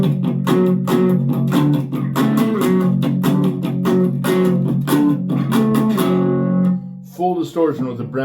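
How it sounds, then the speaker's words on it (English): A Harley Benton R 458 MultiScale electric guitar plays through a Boss Katana amp at a light overdrive crunch, with loud rhythmic chords in a steady strummed pattern that fade out near the end. "Now, go up to the overdrive level, a little crunch."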